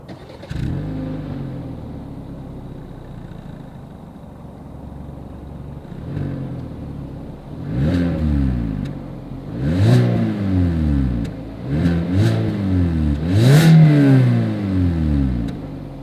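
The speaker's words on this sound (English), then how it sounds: "here is that exhaust clip" A 2021 Hyundai Accent engine revs repeatedly, rising and falling in sharp bursts that grow louder and more frequent, with a deep exhaust rumble between throttle blips.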